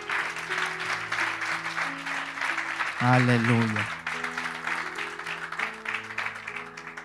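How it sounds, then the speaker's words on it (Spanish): A church congregation applauds, a continuous rush of clapping that runs under sustained organ or keyboard chords, with a voice briefly calling out midway. "¿Cuánto le dan un aplauso al Señor por eso?"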